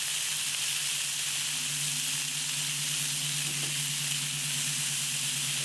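Onions sizzle steadily on a Blackstone flat-top griddle, a continuous close frying hiss with a faint low hum underneath, no voices.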